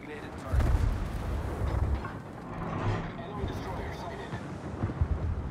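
Naval artillery from a warship in World of Warships, heard as a series of deep booming salvos with rolling rumble beneath a voice speaking.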